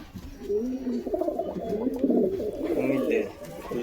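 Pigeons from a sale collection coo steadily and loudly up close, their low, throaty rolling calls overlapping without pause.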